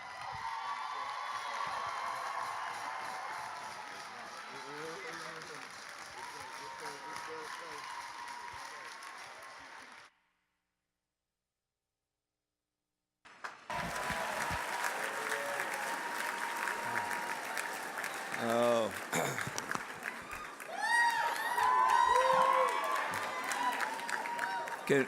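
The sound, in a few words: audience applause after a song at a dinner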